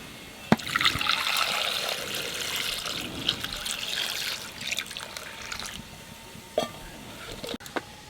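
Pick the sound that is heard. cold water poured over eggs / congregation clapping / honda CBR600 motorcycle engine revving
cold water poured over eggs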